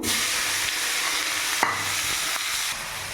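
Chopped onions sizzle steadily in hot oil with bay leaves, a dense continuous frying hiss with a few soft stirring scrapes, close and loud, no voices.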